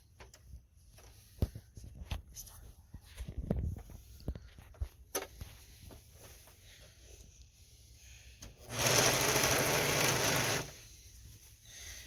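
Home sewing machine stitching pajama fabric: a steady, fairly loud burst of motor whir lasting about two seconds, preceded by scattered light handling clicks and taps.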